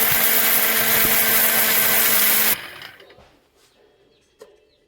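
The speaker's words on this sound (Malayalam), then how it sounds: "നമ്മുടെ മിക്സിയിലിട്ടാണ് ഇത് പൊടിയാക്കണത്" Dried turmeric grinding into powder in a kitchen mixer grinder: a loud, steady high-pitched whine for about two and a half seconds, then a quick spin-down and a faint clunk.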